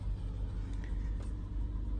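A cold Lexus RX350 engine idles at high RPM, giving a steady, close, even rumble with no speech.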